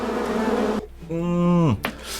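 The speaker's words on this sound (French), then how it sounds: "Les abeilles montent." Bees buzzing in the Monster Boy video game: a tonal, wavering electronic buzz that swells for under a second and then drops away, with other game sounds before and after.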